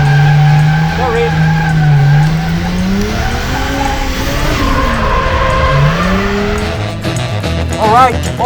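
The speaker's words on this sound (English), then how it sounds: "we were doing the figure 8, practicing the beginnings of drifting" A car practicing drifting in a figure 8 on a track, using first gear and handbrake, with a loud sustained engine roar and long wavering tire squeals close by, and a few brief voices in the background.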